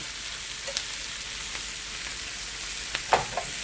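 Tofu sloppy joe mixture sizzles steadily in an uncovered pan, with faint stirring clicks and occasional light taps against the pan.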